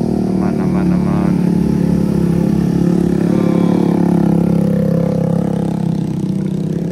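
Honda Beat and Vario and Yamaha Nmax scooters climb a hill on the Pessel–Solok road after heavy overnight rain, a continuous close engine drone that swells and shifts as the bikes pass.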